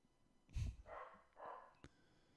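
A dachshund gives a few short, quiet barks and snorty huffs indoors, close but faint, with a small sharp tap right after.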